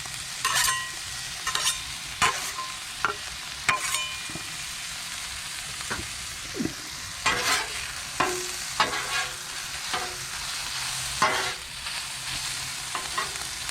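Sausage sizzles steadily on a Blackstone griddle at a campsite, a continuous loud frying hiss broken by repeated sharp scraping strokes of a spatula stirring the meat, with no talking.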